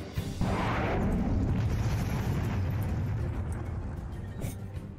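A Minecraft remote launcher sets off a loud, deep explosion that bursts in suddenly and rumbles on for several seconds, slowly fading, with no talk over it.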